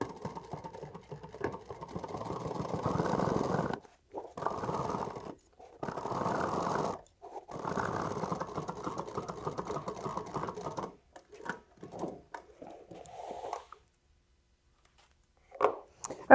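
A sewing machine stitches a bag seam with a short back stitch, running in several bursts of rapid mechanical whirring separated by brief pauses, close and fairly quiet, ending with a few short stops and starts.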